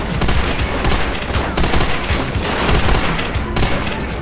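Heavy gunfire in a Stalingrad battle of Call of Duty: World at War, loud rapid bursts of rifle and machine-gun shots overlapping in a continuous close fusillade.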